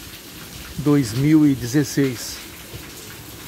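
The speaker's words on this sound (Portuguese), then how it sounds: "com muito vento, chuva intensa" Heavy rain driven by strong wind in Rolândia, Paraná, a steady broadband hiss running through the whole stretch while a voice speaks briefly over it.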